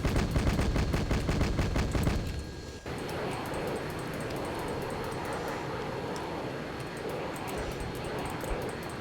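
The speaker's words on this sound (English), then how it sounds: "They're dropping bombs on our position." Bombs exploding in the Arma 3 video game amid heavy gunfire: dense rapid bursts of shots give way to a sustained rumbling barrage, loud and continuous throughout.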